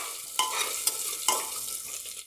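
Ginger, cumin seeds and bay leaf frying in a pan, a steady soft sizzle broken by three sharp scraping stirs, close and fairly quiet with no talking.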